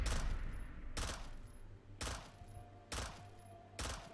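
A CZ Scorpion EVO 3 A1 submachine gun with a micro modification fires in Fallout 4 in four fast, loud bursts about a second apart, each trailing off before the next.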